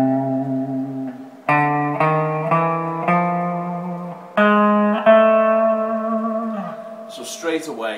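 An Algerian scale is played note by note on a distorted, effects-heavy electric guitar, with sustained harmonic-rich tones stepping through the scale in a steady sequence, loud and close, and a brief scratchy noise at the end.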